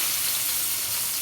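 Garlic hits hot oil in a wok, giving a bright, steady sizzle up close with no pause, for jackfruit being cooked.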